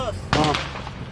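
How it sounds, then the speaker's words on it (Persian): One sharp gunshot crack rings out at night outside Ghezel Hesar prison in Karaj, Iran, after a brief quiet moment, then fades into a lingering echo. "الان تیراندازی شروع کرده"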